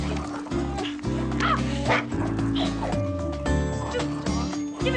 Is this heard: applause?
no